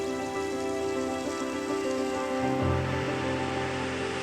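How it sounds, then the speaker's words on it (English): A woodland waterfall spills onto limestone rock, a steady broadband rush of falling water that stays fairly loud and constant throughout, with no voices. "Deep in the woods, a waterfall spills onto limestone rock."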